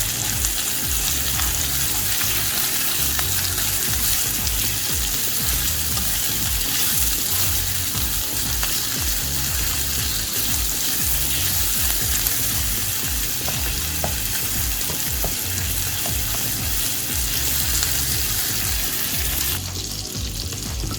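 Koi fish curry with onion frying in a pan on low heat, giving a dense, steady sizzle with occasional stirring scrapes throughout, loud and close with no voices.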